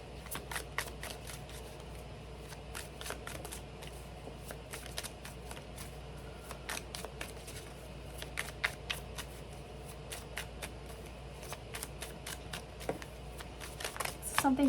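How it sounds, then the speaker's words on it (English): Tarot cards shuffled by hand in a quiet room, producing a steady stream of crisp riffling clicks and soft card snaps close to the microphone, with a faint voice in the background. "I'm shuffling to get your overall energy"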